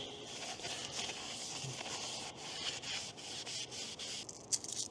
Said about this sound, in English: go ahead and just hit it up with some brake clean, make sure all of our contact surfaces are cleaned up